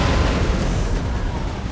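Canister shot artillery fire in the Empire: Total War game roars as a dense, loud, continuous blast of rumbling noise lasting under two seconds.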